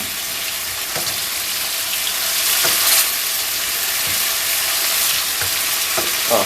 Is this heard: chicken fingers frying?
yes